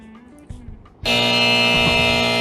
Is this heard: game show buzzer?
yes